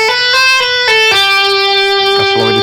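Electric guitar plays a fast rock pull-off sequence, a lick chained onto an earlier one: clear sustained notes stepping downward in smooth legato runs, loud and close with no talking.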